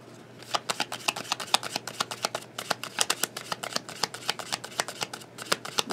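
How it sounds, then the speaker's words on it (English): Tarot cards being shuffled, crisp rapid riffling snaps in a quick irregular rhythm, close and fairly quiet, with no talk. "We'll just keep pulling some cards."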